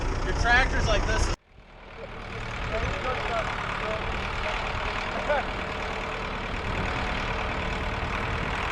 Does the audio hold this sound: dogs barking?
no